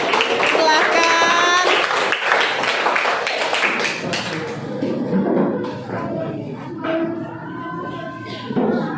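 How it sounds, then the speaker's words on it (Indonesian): A classroom of students claps for a presenting group, a sustained burst of applause mixed with chatter and voices, tapering off into scattered talk. "Yuk, tepuk tangan untuk kelompok jahe."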